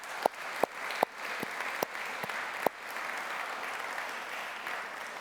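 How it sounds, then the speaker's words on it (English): A gathering applauds office staff at an annual church meeting, a continuous bed of crowd clapping punctuated early by several sharp, close individual claps, then settling into an even, moderate patter. "So could we just give those people a round of applause?"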